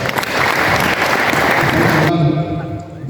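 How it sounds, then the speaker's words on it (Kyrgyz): Applause for Mamytbekov Düyshönbek at a launch event for a historical encyclopedic book: a dense, steady burst of clapping from an indoor audience that carries on for about three seconds and thins slightly at the end. "Мамытбеков Дүйшөнбек майкеге кол чабуулар болсун"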